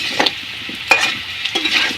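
Meat cooking in a pot over a wood fire, with close stirring scrapes and a light sizzle coming in short, uneven bursts, loud and near.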